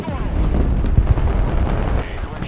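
Bombing explosions in the war game Broken Arrow, dense rumbling blasts and booming impacts rolling continuously, loud and close, with a sharper hit near the middle, and a voice talking underneath.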